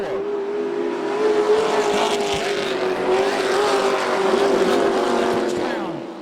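Pro trucks racing on the dirt oval at Volusia Speedway Park, engines roaring loud and sustained as a pack runs down the back straightaway, with a race announcer's voice faintly mixed under the engine noise.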